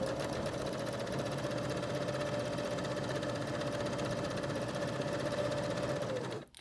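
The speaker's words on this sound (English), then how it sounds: "I'm stitching the folded edge of my flap, and I'm going to use the inside edge of my foot because I want this to be fairly narrow" A domestic sewing machine stitching along the folded edge of a fabric flap for a journal cover, a steady close whirring hum that runs evenly and then stops abruptly at the end.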